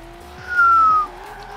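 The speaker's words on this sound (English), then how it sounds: "This car actually doesn't drift that bad." Tires squeal for about half a second as a car drifts through a turn in Forza Horizon 4, rising over a steady engine hum with no voices.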